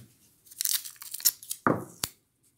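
A piece of tape is pulled and torn off the roll. Quick crinkly tearing bursts are followed by a longer rip and a sharp final snap, close and fairly quiet.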